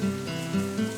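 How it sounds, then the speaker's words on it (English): Rain falls in the visual novel Katawa Shoujo, a steady close patter with a low hum beneath it and faint tonal swells. "Rain."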